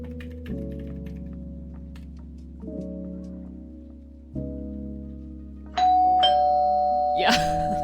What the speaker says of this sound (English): regular doorbell sound